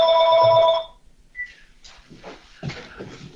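A home telephone rings in one loud electronic trill that cuts off, followed by faint scattered room noise and a brief tone.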